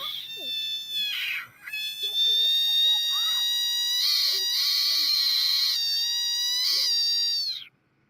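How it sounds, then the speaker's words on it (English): A screaming frog lets out a long, shrill, harmonic-rich wail, breaking off briefly near the start and then holding loud and close for several seconds before cutting out abruptly. "Fizzy Pop discovered a frog that had the ability to literally scream"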